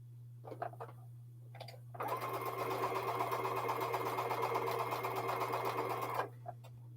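Sewing machine chain piecing quilt blocks for a jelly roll chain quilt: a steady rapid mechanical whirr runs for about four seconds after a few short stitching bursts, fairly close, over a constant low hum.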